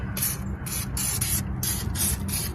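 Wax undercoat sprayed onto the underside of an INEOS Grenadier SUV, heard as a series of hissing aerosol bursts with short gaps, close and steady over a low background rumble.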